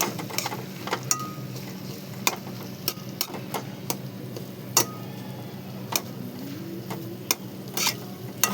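Fish roe bhurji frying in a pan with a constant sizzle, broken by frequent sharp clicks and knocks of a spatula stirring against the metal throughout.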